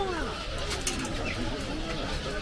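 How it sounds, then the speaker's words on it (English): Birds at a feeding bath in Monkey Park, Tenerife, give soft, repeated coos and calls over a steady, busy background, with people talking faintly nearby. "Look at all these birds in the little feeding bath."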